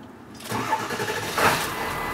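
A sports motorcycle engine cranks and fires into life after a quiet moment, then settles into a rough, revving idle close by.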